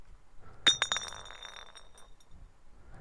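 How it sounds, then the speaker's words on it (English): A small object drops from a pocket in the Zero Escape game Virtue's Last Reward, landing with a bright glassy clink followed by a few quick bouncing chinks that ring briefly and fade into quiet. "something fell out of his pocket with a soft clink"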